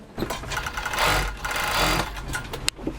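Sewing machine stitching balaclavas and thermal underwear, a close, fast mechanical whir running almost the whole time with short pauses and a sharp click near the end.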